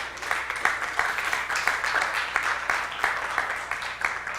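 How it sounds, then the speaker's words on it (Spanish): A church congregation applauds at the close of a Spanish-language service, steady clapping from many hands filling the room at moderate volume, with a faint low hum underneath. "Dale un aplauso al Señor."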